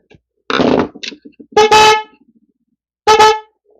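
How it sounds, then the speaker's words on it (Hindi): A vehicle wind horn, being repaired and tuned, blares in short loud blasts, three separate honks with gaps between them, close and harsh with a buzzy tone. "विंड हॉर्न है"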